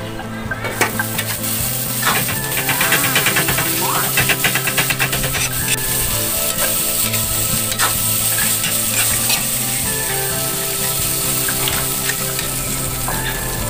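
Pancit canton noodles sizzle and fry in a pan while being stirred, a steady loud hiss with repeated scraping and clinking of the utensil throughout, no talking.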